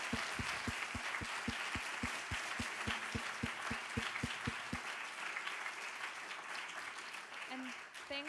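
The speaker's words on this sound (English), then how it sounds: "we can give our speakers a real round of applause" Audience applause at a cultural heritage conference plenary session, a steady wash of many hands clapping for the speakers throughout, with a few distinct rhythmic thumps in the first half and a brief voice near the end.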